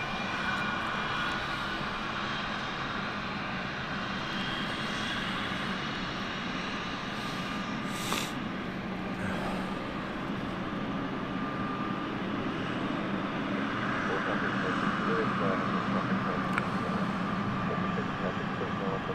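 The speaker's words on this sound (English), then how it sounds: "British Airways aircraft heading out for departure" A British Airways jet taxis for departure at London City Airport, its engines giving a steady, continuous roar mid-distance that holds level throughout with no talk over it.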